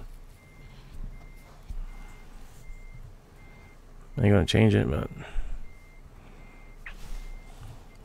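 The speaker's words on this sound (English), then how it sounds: "You can beep all you want." A truck in the video game What the Truck emits evenly spaced reversing beeps that repeat throughout, joined midway by a loud burst of engine or brake noise, with someone talking briefly over it.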